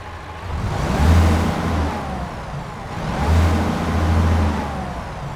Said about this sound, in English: let's go ahead and get our international LT started up and get on the road